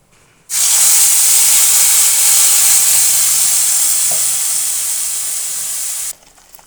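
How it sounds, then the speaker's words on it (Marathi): Tomato, onion and garlic paste hits hot oil with mustard seeds in a pan, giving a sudden loud, steady sizzling hiss that holds for several seconds and then cuts off. "पॅनमध्ये टाकले तेल त्यामध्ये टाकली राई आणि आपण हे पेस्ट टाकून घेऊया"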